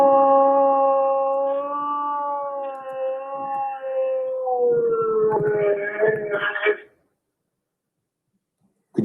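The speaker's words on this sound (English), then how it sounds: "the known dog sound" A recording of a dog howling is played back in a courtroom, a long sustained wavering howl that breaks into rougher yelps near the end before cutting off, fairly loud and alone.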